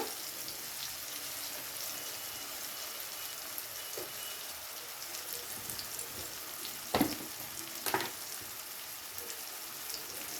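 Garlic paste sizzles in a pan of melted-down tomatoes, a soft continuous frying hiss with a couple of brief louder spatters or utensil knocks near the end.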